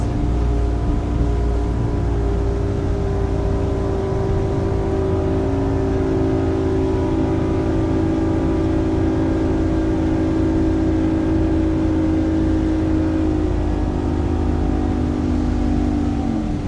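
A Wellcraft motorboat engine roars steadily at high speed, a continuous loud drone holding nearly constant pitch throughout with a slight drop near the end, no voices over it.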